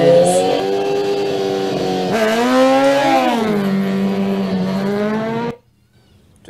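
Racing motorcycles at the Isle of Man TT roar past loud and close, a high sustained engine whine that climbs in pitch then falls away, ending in a sudden drop to near silence.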